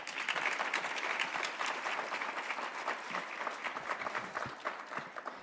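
An audience at a literary activism summit at the Schomburg applauds, a dense, steady clapping from a sizable crowd that carries on throughout and thins slightly at the end.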